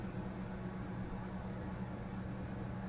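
A microwave oven running on a portable Anker SOLIX F3800 power station gives off a steady, even hum with a low electrical drone, constant and unbroken throughout.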